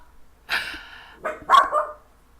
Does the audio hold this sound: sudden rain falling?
no